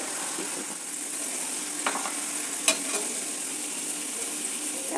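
Chana dal fries in oil over a low flame with a steady, even sizzle and occasional small pops and crackles, alone without talk.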